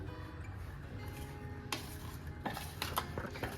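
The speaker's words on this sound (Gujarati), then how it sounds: "અને આ રીતે એકદમ સરસ રીતે બધું બરાબર મિક્સ કરી લઈશું." Jaggery being stirred into crumbly churma for Gujarati ladoo, a steady close scraping and mixing with a few sharper clinks of spoon against the bowl toward the end.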